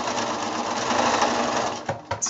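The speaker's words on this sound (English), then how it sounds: "I'll do my double line of sewing here." A sewing machine runs steadily, stitching a double line of seams on a quilt block for a snowball-pattern quilt. The whir is continuous and close, then breaks into a couple of short bursts as it stops and restarts near the end.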